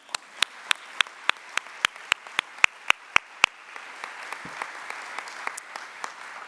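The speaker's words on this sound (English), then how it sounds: "let's have another big round of applause because we cannot thank our sponsors enough" Audience at a nursing education conference's opening session applauds for sponsors: a run of loud, evenly spaced claps from one nearby pair of hands rides over a softer, spreading crowd applause that lingers and thins toward the end.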